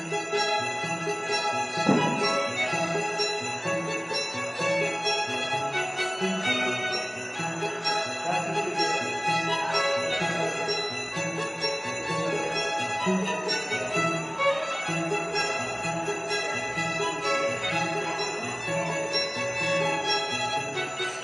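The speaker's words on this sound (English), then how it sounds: "Jingle bells is on. There it is." A festive bell-laden tune plays continuously, bright jingling bells ringing over a steady musical backing for about twenty seconds, no talking.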